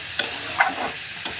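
Chunks of elephant foot yam being stirred into fried spice paste, with three quick scraping strokes of a spoon over a soft, even sizzle, close and fairly loud.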